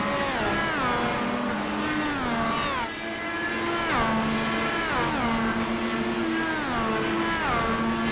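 Simulated IndyCar race cars at Gateway in the iRacing video game, a dense, continuous engine drone with repeated rising revs and gear shifts as a field of cars runs close together, loud and without commentary.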